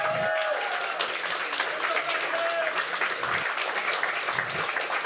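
Crowd at an esports LAN event cheering and applauding for the competing teams, a dense, steady wash of clapping and shouts throughout with a few whistles and voices rising above it.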